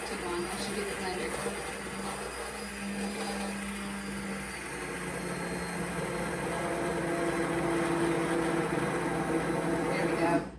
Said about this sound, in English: we're going to use this hand immersion blender because it just means I don't have to get anything else dirty